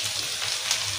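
Tofu fries in a pan with napa cabbage for a Chinese-style oyster-sauce dish, giving a steady, loud, close-up sizzle that hisses without a break and has no voices over it.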